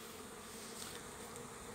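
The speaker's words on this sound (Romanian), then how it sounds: "Aici pare că ar fi, într-adevăr, un zbor de orientare a celor albine care au ecluzionat săptămâna trecută" Honeybees hum near their hives on an orientation flight, a continuous soft buzzing drone of many bees, steady and fairly faint with no voices.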